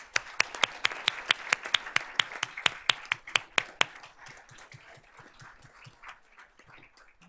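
An audience at a Board of Trustees meeting applauds a group of students. Crisp individual claps ring out close and distinct at first, then thin into softer, scattered clapping that fades toward the end.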